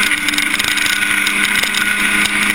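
Racing car, a Jomo, driven flat out around a circuit as it slides through the corners: a loud, close, sustained engine roar with rapid pulsing and wind rush, no talk.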